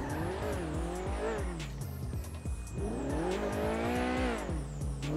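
A car in Grand Theft Auto V driving hard, with repeated engine revs rising and falling through gear shifts and tire squeals and skids, loud and continuous.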